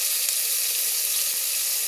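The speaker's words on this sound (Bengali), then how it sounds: "দেখো, আমি এখানে ভেজে নিচ্ছি শোল মাছগুলো।" Snakehead fish fry in hot oil in a pan, giving a steady, dense sizzle that stays even and loud throughout with no talking.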